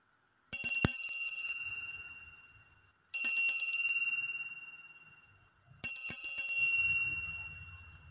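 A bell rings three times in slow succession, each bright metallic strike decaying over a couple of seconds before the next, clear and alone with no talk.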